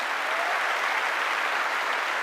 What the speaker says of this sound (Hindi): प्लीज प्लीज जोरदार इनके लिए भी एक बार ताली हो जाए।